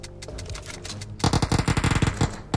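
Rapid automatic gunfire bursts out in a PUBG Mobile match, a close, loud rattling volley of evenly spaced shots following a quieter stretch of game sounds.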